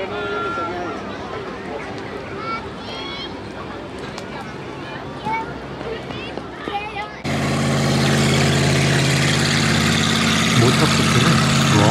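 A motorboat engine drones steadily as the boat runs along the Main river during a riverside summer festival, a voice talking over the first part before the engine hum grows louder and fuller.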